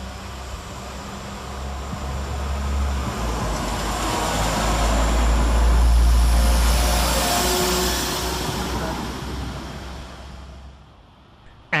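A West Midlands Railway class 172 diesel unit, 172343, emerges from a tunnel and pulls into Birmingham Moor Street station. Its low rumble and roar swell to a loud peak, then ease off as it slows.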